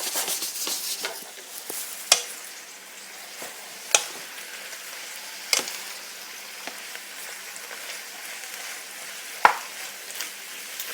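Broccoli rabe sizzling in a hot pan, a bright continuous hiss dotted with crisp crackles and a few louder pops at intervals, close by and without talk.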